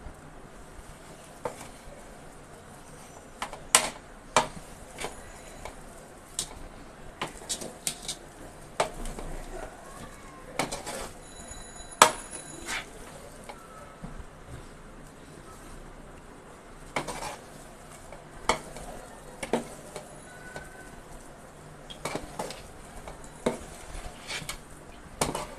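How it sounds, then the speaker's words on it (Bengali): Meat is mixed into rice in a cooking pot, with scattered metallic scrapes and clanks of a spoon against the pot at an irregular pace over a quiet background, no speech. "এখন পুরো চালের সাথে মিশিয়ে দিব।"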